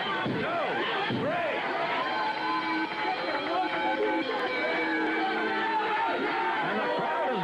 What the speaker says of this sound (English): And the crowd is booing.